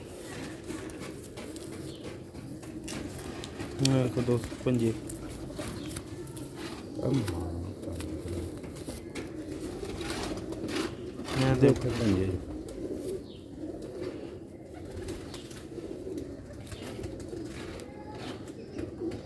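Old-breed Bater pigeons give a few low, throaty coos spaced several seconds apart, close by. Someone talks intermittently over them.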